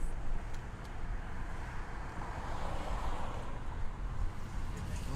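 Cars pass along an Austin street, a steady wash of traffic noise and road rumble with faint wind, carrying on without distinct individual pass-bys.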